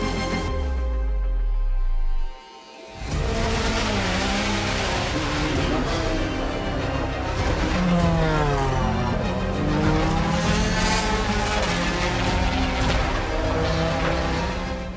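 A Porsche 911 RSR race car roars close by, a high racing engine note that climbs and shifts through the gears after a brief lower engine pass and a short gap, loud and continuous.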